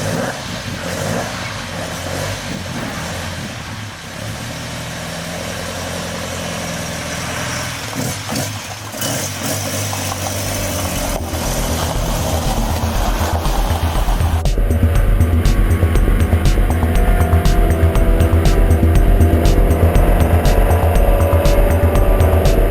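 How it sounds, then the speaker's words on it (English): A classic car engine idles with a low uneven rumble, then a steady, louder drone builds as the car drives off and keeps running near the microphone. "and listen to the engine."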